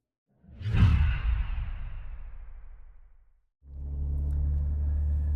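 A 2026 Nissan Armada NISMO SUV pulls past with a loud broadband whoosh that fades over a few seconds, then after a brief gap its engine settles into a steady, close, low rumbling drone.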